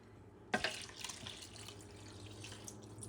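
Water is poured into a cooking pot of buckwheat with beef, a sudden splash followed by a short trickle and light drips in a quiet kitchen.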